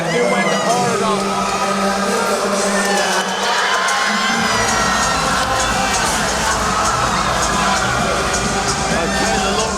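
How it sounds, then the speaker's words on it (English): Fans roar and cheer wildly in the crowd after a Cage Warriors title fight, a dense, loud wall of shouting and whooping that swells midway and stays sustained to the end. "His fans go wild in the crowd."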